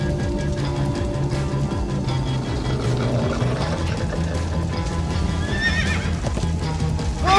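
Horses from Minecraft: Story Mode whinny and gallop with steady hoofbeats throughout, a loud whinny rising near the end over a continuous rumbling game backdrop.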